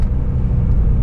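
Exhaust of a 2022 Jaguar F-Pace SVR as the throttle lifts: a loud, dense low rumble and burble fills the brief moment, heavy in the bass and steady throughout.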